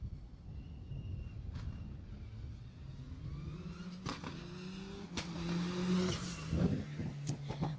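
A rally car at the Jersey Rally, an event of long, hard stages over 140 miles, approaches and roars past on a sealed stage, engine rising in pitch with sharp gear-change bursts, loud and close, with no talk.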